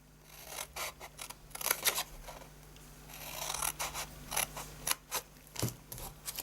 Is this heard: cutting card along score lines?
yes